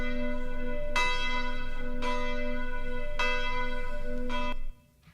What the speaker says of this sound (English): The room was dark, but he could hear church bells.